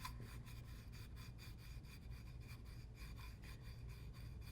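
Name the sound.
pastel being sharpened in H.G. Art Concepts pastel shaper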